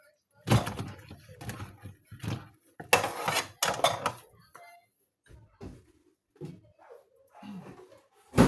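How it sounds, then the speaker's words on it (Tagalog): A cooking pot being scrubbed and handled: intermittent clattering, scraping and clunking of metal pot and utensils at close range, with some speech in between. "Na ko ni hinisan ang kaldero kay walay aga."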